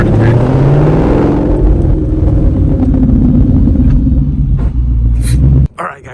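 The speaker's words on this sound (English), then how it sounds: "we just had our first test drive with no exhaust on the car, just the cats" Deep, rumbling exhaust of a Mustang S550 driving with its exhaust removed, running on cats only; a loud, resonant engine drone with rising revs, cut off sharply near the end.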